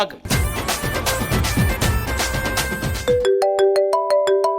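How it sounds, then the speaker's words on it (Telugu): A phone ringtone plays loudly: a busy melodic tune with rhythmic hits, then shifts into a repeating pattern of clean electronic beeps. "ఏదో ఫోన్ వస్తుంది."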